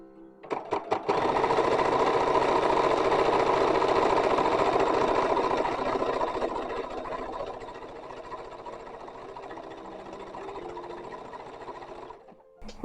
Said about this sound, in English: Alright, sewing the larger petticoat.